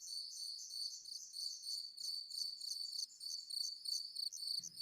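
Crickets chirp in a continuous high, pulsing trill at steady volume, with no voices present and only a faint low thump near the end.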